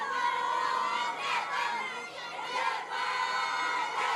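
A large stadium crowd chants and roars through a Nepal vs India women's football match, the sustained mass of voices rising and falling in waves.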